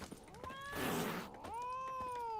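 A cat meowing in the video game Witcher 3, two drawn-out tonal meows, the first rising and bending before a brief rougher burst, the second longer and level, heard clearly and alone.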